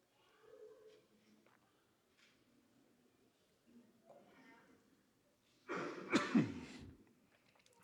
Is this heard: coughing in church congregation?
yes